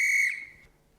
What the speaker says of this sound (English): when I blow my whistle